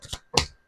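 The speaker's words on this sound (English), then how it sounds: "And you're watching me shuffle on camera." Tarot cards being shuffled by hand, two quick close riffling bursts less than a second long, crisp and dry with no talk.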